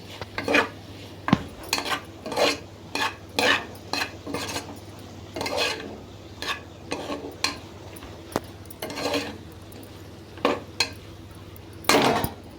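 A spoon stirs chili powder and turmeric into a beans curry in a pan, knocking and scraping against the metal in irregular, repeated strokes over a faint low hum.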